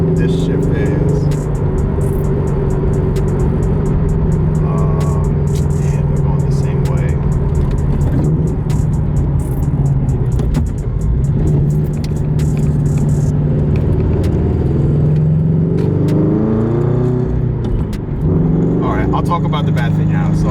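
A Toyota 86/Subaru BRZ fitted with a short throw shifter rolls along in fourth gear, a loud steady engine drone and road rumble inside the cabin, with someone talking over it.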